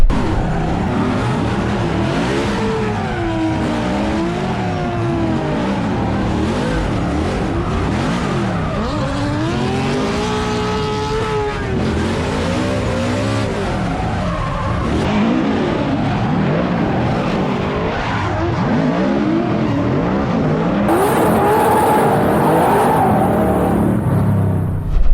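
Drift race car engine roaring and revving with tire squeal and skidding, loud and continuous throughout, pitch rising and falling as it slides, with no voices.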